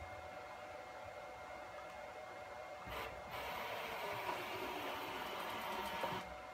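A Bridgeport J2 milling machine's motor, driven by a ClearPath servo, runs at high speed around 750 to 800 RPM. It gives a steady, even whir that steps up louder partway through and then holds.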